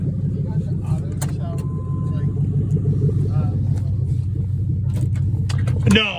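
A car engine idles with a low, steady rumble close by, while people talk over it.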